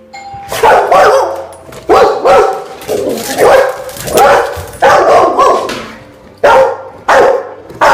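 A big dog barks loudly and repeatedly in bursts of two or three, close by, with a doorbell chime mixed in among the barking.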